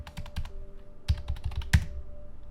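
Fingers tap quickly on a computer keyboard, with a burst of crisp keystrokes, a short pause, then a few more sharp, close clicks.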